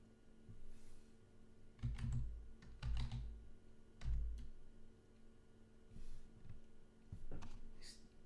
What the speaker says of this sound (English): I'm just gonna type this here and Needit.